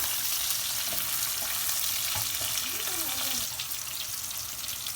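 Onion, curry leaves and green chili fry in hot oil for a bottle gourd moor kuzhambu, a steady sizzle with light stirring scrapes and faint speech-like tones over a constant hiss.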